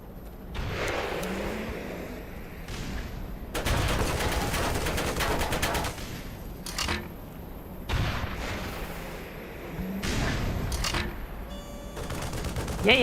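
Gunfire in a video game comes in repeated bursts of rapid shots, some loud and close, others more distant, with steady background battle noise between volleys.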